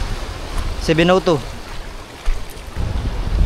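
Strong wind and waves at sea off Sabang during a fishing trip, heard as rough, gusting broadband rumble that swells and dips, with a short spoken phrase near the start.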